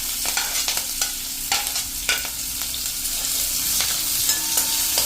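Sliced green chili and onions frying in hot oil in a pan, a steady close sizzle with scraping stirs breaking through at intervals, no voices.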